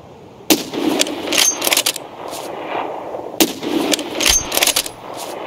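Two sharp gunshots crack out a few seconds apart in Escape from Tarkov, each followed by quick metallic rattling and clatter over a low background rumble.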